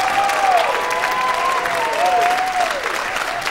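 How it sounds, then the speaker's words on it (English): Audience applause after a fifth-grade school play at Atkinson Academy, sustained loud clapping from a crowd, with a few whistles or cheers rising above it. "Give yourselves a round of applause."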